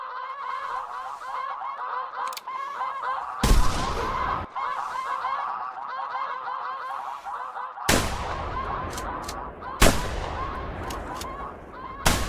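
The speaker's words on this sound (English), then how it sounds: "I like the sound of the single shot. It's pretty beefy." Single-shot gunfire in theHunter Classic during a snow goose hunt: four loud, beefy shotgun blasts spaced several seconds apart, each cutting through a dense continuous chorus of honking geese.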